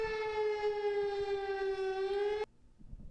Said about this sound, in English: I didn't know that they could just stop tornado sirens that quickly